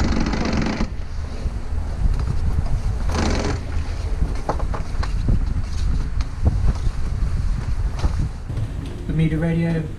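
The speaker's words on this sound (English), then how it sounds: "And the wind's piped up again." Steady wind rushes and buffets the microphone over a broad, continuous roar aboard a sailing boat crossing the Atlantic, with brief voices at the start and end.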